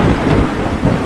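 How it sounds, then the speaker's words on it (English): Heavy rain pours in a dense, loud, continuous roar, with deep low rumbling like thunder beneath it and no voices. "We can't enter this rain. At all. It's very, very heavy."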